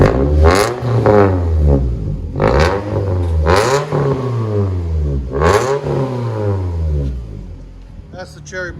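A 2007 Toyota Solara four-cylinder with a muffler delete and 12-inch Cherry Bomb glass pack exhaust revs in several loud, close bursts, each rising and falling, with a brief voice near the end.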